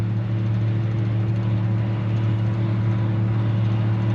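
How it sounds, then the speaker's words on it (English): An old barn-find Gleaner G combine harvester drives uphill under load, a steady low engine and drivetrain drone humming evenly and continuously with no talk. "Transmission sounds quieter under load going uphill."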